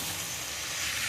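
Spices frying in a pan of hot oil for a sweet star fruit pickle, a steady close hiss of sizzling that holds evenly throughout with no talking.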